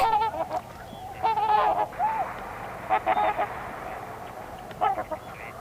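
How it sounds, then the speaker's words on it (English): Several swans call outdoors at a lake in autumn with nasal, honking bursts, some close and some farther off, coming in irregular clusters with quiet gaps between. "I love the sounds that swans make."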